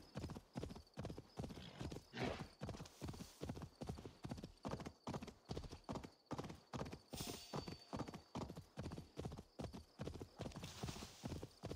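A horse gallops in Assassin's Creed Valhalla, its hooves striking in a fast, even clip-clop rhythm that runs close and unbroken, with a brief whinny mixed in.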